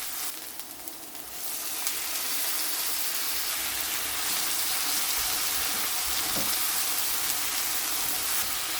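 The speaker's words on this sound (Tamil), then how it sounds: "இப்போ இஞ்சி பூண்டு வதங்கிட்டு இப்போ நான் தக்காளி சேர்க்குறேன்." Tomatoes dropped into a pan of sautéing ginger and garlic, cooking for restaurant-style pepper chicken, set off a loud, steady sizzle and frying hiss that rises after the first second and holds throughout, with no talking.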